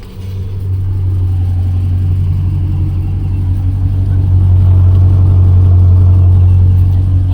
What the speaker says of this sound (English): You can make the car a little bit louder with a push of a button.